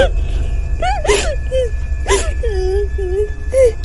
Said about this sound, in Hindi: तभी जंगल में किसी की रोने की आवाज आने लगती है।